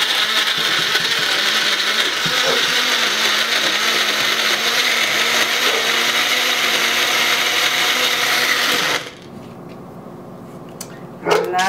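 A blender whirs loudly and steadily for about nine seconds, a dense mechanical roar, mixing a strawberry mango lemonade, then cuts off abruptly, leaving faint clatter.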